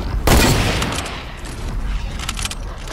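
A loud sniper rifle shot cracks up close in a Fortnite battle royale, with a booming tail fading into ambient game noise over a few seconds.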